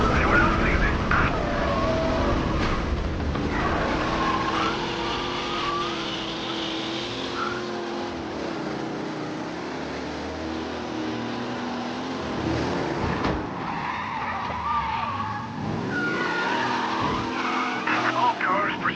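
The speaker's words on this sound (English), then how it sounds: "Officers reporting a race car driving at speed through the city." A race car tears through city streets in Mafia: The Definitive Edition, its engine roaring while the tires squeal and skid repeatedly, loud and close throughout.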